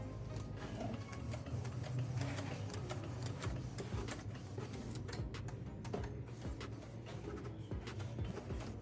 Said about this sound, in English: This will start the nozzle check without using a computer.